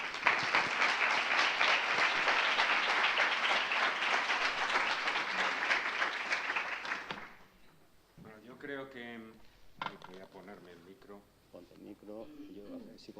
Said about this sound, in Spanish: solo os pido pues un fuerte aplauso para él.